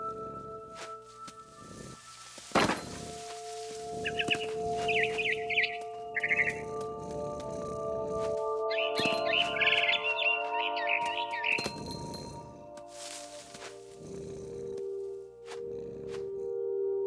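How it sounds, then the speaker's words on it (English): A barn swallow chirps outside a window in the video game What Remains of Edith Finch, bright repeated tweets in short bursts over a quiet ambient background with a few soft thumps. "Then I heard chirping outside my window. It was a barn swallow going back to her nest."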